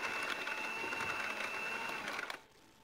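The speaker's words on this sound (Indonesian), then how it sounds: "Setelah itu matikan mixer." Electric stand mixer kneading bread dough at high speed, a steady close whirring hum that cuts off near the end as the machine is switched off.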